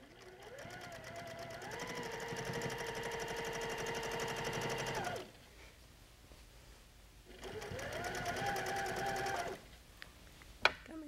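A sewing machine quilts along the seams of a patchwork quilt block, running in two bursts of rapid, even needle stitching, each rising to a steady rhythmic hum before stopping, with a quiet pause between and a small click at the end.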